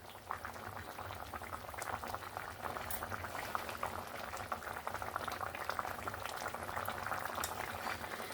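A curry of salty tangra fish and potatoes bubbles at a steady boil in a pan on a gas stove, with soft, continuous popping and simmering that stays faint and close.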